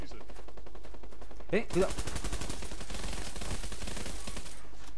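Rapid gunfire in the online shooter BulletRun, bursts of automatic shots rattling loud and close, with a voice briefly calling out over the shooting.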